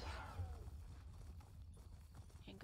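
Horse hooves clop steadily in a walking rhythm in the video game Elder Scrolls Online, over a low background rumble, with faint voices in places.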